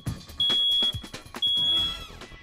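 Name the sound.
smoke alarm test beep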